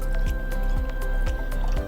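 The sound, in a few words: packaged water being poured into a glass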